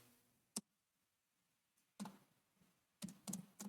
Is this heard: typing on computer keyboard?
yes